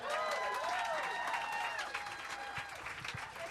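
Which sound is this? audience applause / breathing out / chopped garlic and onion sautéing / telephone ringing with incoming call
audience applause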